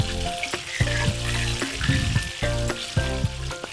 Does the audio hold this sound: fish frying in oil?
yes